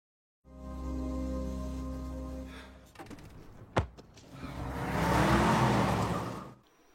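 A car in an action film engine starting, idling, then revving and accelerating away with a sharp mechanical whine midway, loud and close, no one talking.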